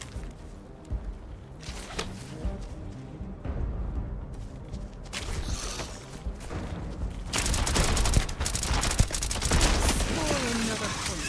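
Gunfire from a favorite weapon in Starfield, with loud bursts of shots and rattling volleys that grow denser toward the end, over a busy game soundscape.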